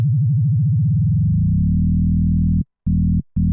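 Low synthesizer tone in Ableton Live with frequency modulation that begins as an audible fast wobble, then smooths into a steady buzzy tone as the rate rises, cut by two brief gaps near the end.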